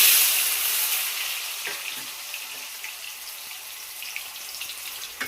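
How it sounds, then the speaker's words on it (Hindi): Besan gatte hiss and sizzle in hot oil in a kadhai, a loud bright frying noise that gradually settles into a softer steady crackle with a few small pops. "अब ये फ्राई होते रहेंगे।"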